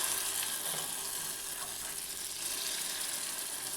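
Batter sizzles steadily in hot oil scattered with white sesame seeds in a pan, a continuous bright crackling hiss that holds at an even level throughout with no talking.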